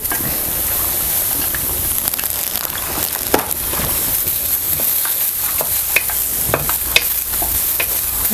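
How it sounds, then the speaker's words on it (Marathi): Chopped onion roasts in a pan for chicken sukka, giving a loud, continuous sizzle broken by frequent scraping stir strokes and clicks. No one speaks. "कांदा भाजून घ्यायचा"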